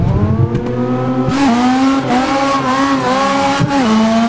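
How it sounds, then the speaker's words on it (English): Mazda RX-7 drift car with a rotary engine racing at Laguna Seca in Assetto Corsa, revving loudly and steadily with sharp, buzzy pitch shifts as it changes gear and accelerates, close and continuous without speech. "Oh man, listen to this rotary engine."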